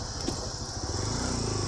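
A motorbike engine runs steadily close by on a rural road, a continuous buzzing drone with a rising pitch toward the end, with no talk over it.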